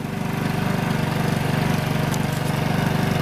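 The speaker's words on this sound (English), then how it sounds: "Gotta get that idle speed down." A Chinese motor scooter's small engine idles steadily and a bit fast, with a continuous close-up putter and vibration and a brief faint clatter partway through; the engine is running slightly rich.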